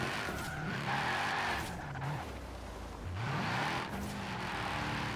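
A Mercedes-Benz E63 S AMG in Forza Horizon 4 braking hard from high speed, with a sustained tire squeal and skid over the engine note, rising and falling as the car slows.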